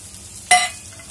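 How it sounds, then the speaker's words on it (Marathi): Sesame, coriander seeds and cumin hit hot oil in a pan for a chicken masala, a sudden sharp sizzle burst that fades quickly back to a low background hiss. "आता हलवून परतून घ्यायचे।"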